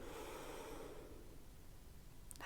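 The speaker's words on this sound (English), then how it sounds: "Really breathing in." Deep inhalation during a singing warm-up stretch, a quiet, breathy, airy rush lasting about two seconds that fades out, with a faint click at the end.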